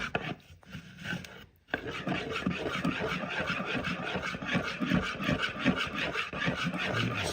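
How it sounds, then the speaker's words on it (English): A spoon stirs cheesecake mixture round a bowl in a steady, rhythmic scraping that rubs against the sides, close and moderately loud after a short quiet start. "just keep stirring this round"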